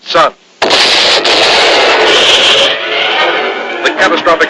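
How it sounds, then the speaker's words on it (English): A 1960s Sub-Mariner cartoon explosion as a speeding comet strikes a dead sun: after a brief voice, a loud roaring burst erupts and rumbles on for about two seconds, then fades into lighter crackling. "The catastrophic explosion rents the heavens apart, sending a swarm of meteors racing through the universe"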